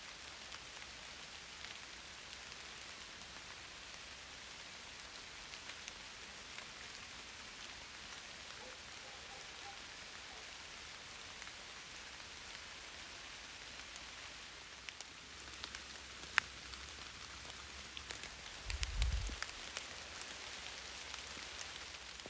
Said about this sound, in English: hoping this rain covers a bit of noise